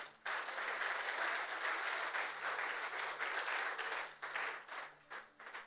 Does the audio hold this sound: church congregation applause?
yes